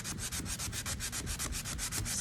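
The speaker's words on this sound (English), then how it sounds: "give that area an extra sand, because obviously there's some glue there that's not allowing the stain to penetrate down" A glue spot on a wooden barrister's bookcase being sanded by hand with 120-grit sandpaper, heard as close, quiet, rhythmic rasping strokes in a steady back-and-forth pattern with no talking.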